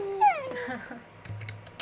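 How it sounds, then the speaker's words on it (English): Dogs in the Minecraft video game give a brief rising whimper and yip, close and fairly clear, followed by quieter game noise. "Get your dogs away from me, man."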